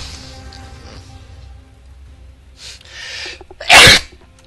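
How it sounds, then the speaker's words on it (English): A single loud, sharp human sneeze bursts out near the end, following several seconds of quiet, low background sound. "sorry about the sneeze"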